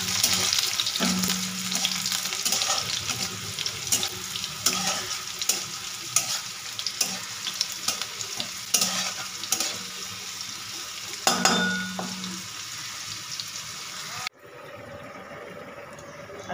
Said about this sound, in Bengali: এবার এগুলোকে একটু ভালো করে ভাজা ভাজা করে নেবো